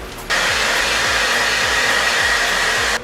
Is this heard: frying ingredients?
no